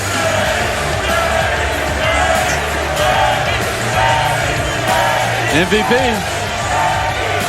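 Braves fans crowding the Battery Atlanta plaza stage after an NLDS playoff win at Truist Park, a dense roar of shouts and scattered whoops carrying steadily under a voice talking over the noise.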